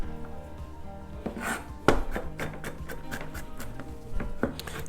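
Garlic cloves minced with a knife on a cutting board, a steady run of close, sharp chopping taps with one heavier thud partway through, with no voices.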